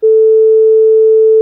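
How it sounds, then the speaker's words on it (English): A clean 440 Hz sine wave from a tone generator holds as one steady, loud, unbroken pitch, starting abruptly and continuing alone without variation. "I've got a tone generator here generating a nice clean sine wave at 440 Hz."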